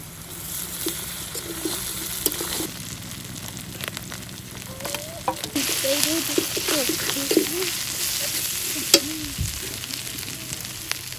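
Onion, ginger and cumin paste with dried chili powder frying in hot oil for a fish curry: steady close sizzle with bursts of crackle, stirring scrapes and clinks rising in the middle, and a sharp knock near the end.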